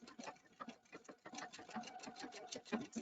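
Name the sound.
embroidery machine stitching a house design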